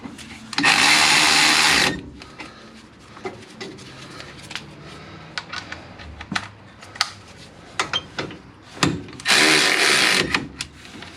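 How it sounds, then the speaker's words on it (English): An impact or power tool tightens the brake caliper bolts on a Ford F-150 front brake job, two loud whirring bursts at the start and end with clanks and handling clatter between. "The only thing left to do now is put the bolts back in to hold the caliper. We will tighten them up."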